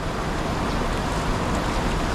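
A strong, fast river where carp are fished rushes past without rain. Its flow makes a steady, dense, loud roar that is close by and uninterrupted, with no voices.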